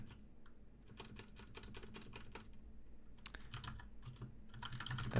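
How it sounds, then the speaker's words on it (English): Rapid typing on a computer keyboard, close and fairly quiet, with bursts of quick keystrokes broken by brief pauses and a slightly louder flurry at the end. "I don't know what I'm typing here."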